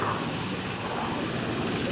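A Goodyear Corsair FG-1D with its 2,300 horsepower Pratt & Whitney engine drones steadily at the Shuttleworth Fly Navy airshow, a broad continuous roar with no break.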